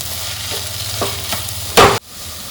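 About ten crushed garlic cloves and a small piece of crushed ginger fry in a pan with a soft steady sizzle, broken by a few light stirring scrapes and a sharp louder scrape just before the frying noise suddenly drops.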